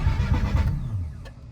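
A Mazda RX-7 engine cranks over in a short, loud, close burst of starter churning that fades out after about a second without catching.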